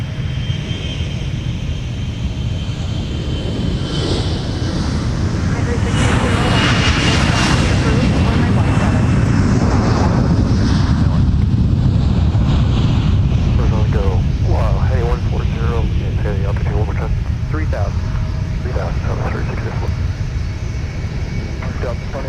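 Delta airliner departing runway 12 right at Minneapolis–St. Paul airport, a loud sustained jet engine roar that swells and holds as the plane rolls and climbs, with radio chatter from the tower mixed in.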